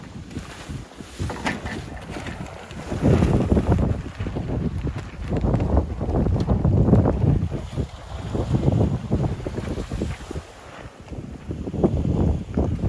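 A new sail is hauled up on a Hawaiian wa'a sailing canoe out on the water, its cloth flapping and rustling in bursts under heavy wind buffeting the microphone, with waves lapping around the hull.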